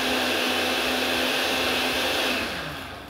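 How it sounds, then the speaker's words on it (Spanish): A kitchen blender whirs steadily for about three seconds as it purees the ingredients for a creamy chicken sauce, its loud continuous motor hum fading slightly at the end, with no one speaking. "ahora sí los vamos a licuar a que queden integrados perfectamente"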